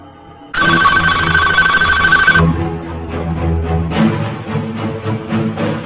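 A loud electronic phone ring trills for about two seconds, then cuts off, leaving quieter rhythmic tapping and background sounds.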